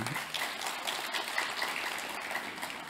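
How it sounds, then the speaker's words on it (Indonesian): An audience at a lecture by presidential candidate Ganjar claps for him, a soft, continuous patter of many hands that sounds moderately distant and fairly quiet. "Kita tepuk tangan buat Pak Ganjar."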